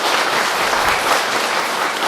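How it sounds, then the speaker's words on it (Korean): Short burst of dense, steady clapping from a church congregation welcoming someone at a Sunday morning service, many hands applauding together at close range. "환영의 박수로 환영하겠습니다."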